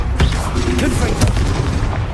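Confringo blasting spell in the wizarding game Hogwarts Legacy, a loud booming burst with sharp cracks amid dense combat noise, a few quick impacts close together.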